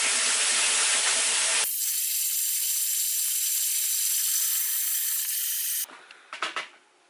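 Water rushes into a screen printing dip tank with a steady hiss, loudest at first and then softer and even, before cutting off into a few brief knocks.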